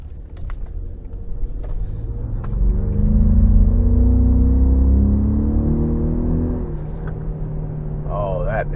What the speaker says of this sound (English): I'm gonna go ahead and take this Raptor out on the road for a quick test drive.